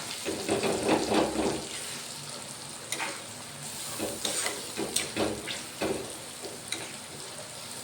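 Fish roe fries in masala in a pan, a continuous close sizzle broken by bursts of scraping as it is stirred and turned, with no voices over it.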